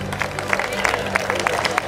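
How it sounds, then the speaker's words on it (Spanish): Brief burst of crowd applause at an orienteering championship awards ceremony in Guadix, scattered claps in a loose rhythm under a speaker's amplified voice and light crowd murmur. "Un fuerte, fuertísimo aplauso"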